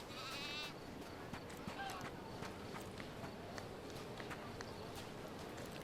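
Sheep in the detective game Sherlock Chapter One bleat at the start, with a few softer bleats later over a steady outdoor ambience and light footsteps.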